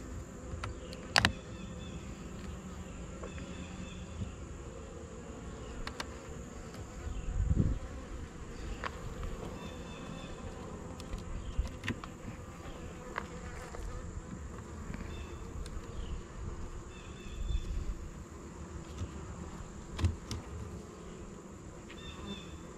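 Honeybees buzzing around an open horizontal hive during an inspection, a steady close hum with individual bees flying past the microphone, plus occasional soft knocks and handling sounds.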